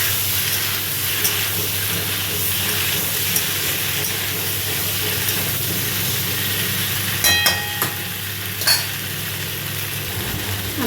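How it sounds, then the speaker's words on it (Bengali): Taro (arum) potatoes frying in a pan with prawns give off a loud, steady sizzle with a constant background hum, broken late by a few sharp clattering stirs against the pan. "মাটির আলুটা ভেজে নিই।"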